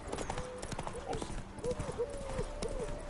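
Roach the horse trots in The Witcher with a steady clip-clop of hooves, fairly quiet and near, under someone speaking.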